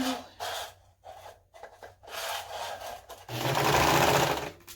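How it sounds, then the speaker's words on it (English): A serger sewing machine stitches fabric for a hooded scarf, first in short stop-start bursts, then in one longer, louder continuous run, heard close and alone. "let's get this serged together"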